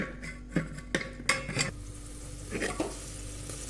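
Soft sizzling of spices frying in hot oil for a tempering, with a few sharp clanks of a spoon against the pan, close by.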